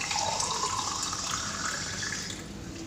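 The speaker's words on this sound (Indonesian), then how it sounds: "kita ambil air kerannya." Tap water pours steadily from a household faucet, a close, continuous splashing rush that holds an even level throughout with no voices.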